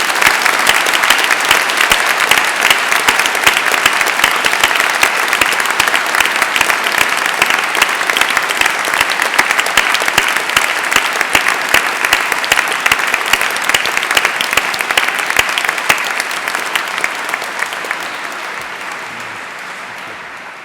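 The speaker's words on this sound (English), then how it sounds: "let's start by giving them all a huge round of applause" Graduates at an Open University degree ceremony in Exeter receive a long, loud, dense round of applause from friends, family and staff, sustained for about twenty seconds before gradually tapering.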